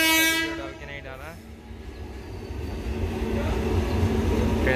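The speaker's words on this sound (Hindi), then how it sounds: "ट्रेन तो बहुत जल्द चल गया।" A train pulls out of Panskura railway station with a loud horn blast at the start, then a rising rumble and clatter of cars building steadily as it gathers speed nearby.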